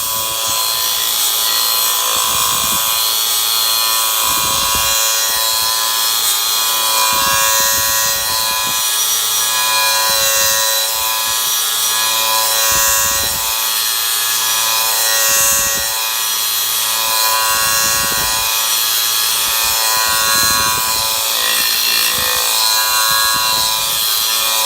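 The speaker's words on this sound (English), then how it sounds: "then we may move to the" A pneumatic air polisher sands wood with a constant high whine, broken by regular rubbing strokes that repeat every couple of seconds for about 25 seconds, with no talking.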